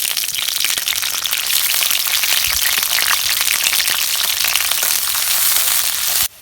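Chillies and onions frying in hot oil for a village-style fish curry, a loud, dense, continuous crackling sizzle close up that cuts off abruptly at the end.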